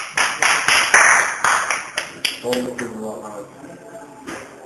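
A small group gives a brief round of sharp, scattered hand claps close by, which fades after a couple of seconds into people talking.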